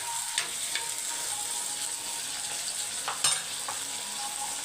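Small whole brinjals, slit in four at the centre, sautéing in oil in a pan with onions; a steady close sizzle with a few sharp spatula taps and stirs.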